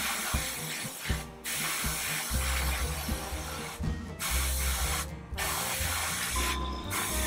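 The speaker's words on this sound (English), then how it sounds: "it's good to spray some areas, some extra areas" Airbrush spraying paint onto a Mosquito FB Mk. VI scale model, close continuous hissing bursts broken by short pauses between passes, with faint mechanical clicks and no speech.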